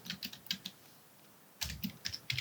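Computer keyboard typing in quick bursts of close, crisp keystrokes, with a short pause in the middle before another flurry of taps; no voices.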